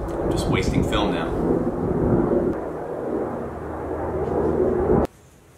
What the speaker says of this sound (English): There's an airplane flying over.